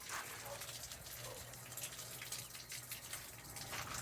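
Steady broadband rush of water running from a hose into an RV fresh water tank, a continuous even gush with a low hum beneath it.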